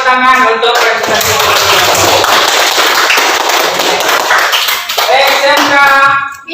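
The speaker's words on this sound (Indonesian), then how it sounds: "tepuk tangan untuk presentasi" A school audience claps loudly and steadily after a group presentation, a dense burst of applause lasting several seconds, with voices and cheering at the start and end.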